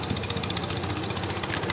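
A longtail boat engine runs close by on the water in Thailand, a loud, rough, continuous rattling drone with a rapid pulsing beat and no speech.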